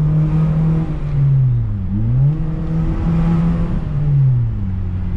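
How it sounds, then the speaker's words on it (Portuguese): A Honda Fit with a sport exhaust revs up and settles repeatedly, a deep, smooth exhaust rumble rising and falling in waves, close and loud. "É o som do escape, né, velho?"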